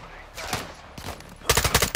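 Call of Duty Modern Warfare 2 combat with scattered shots early on, then a loud rapid burst of automatic gunfire near the end, with faint voices underneath.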